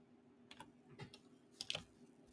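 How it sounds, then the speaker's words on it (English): Sparse one-handed typing on a computer keyboard: a few scattered key clicks in small clusters, quiet and close, with no talking. "It's kind of hard to type with one hand"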